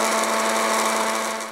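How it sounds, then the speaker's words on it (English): Electric spice grinder whirring steadily on toasted spices for a roast beef crust, a loud, close, continuous buzzing hum that fades slightly at the end. "it's gonna be way faster if you have a mini chop or a spice grinder"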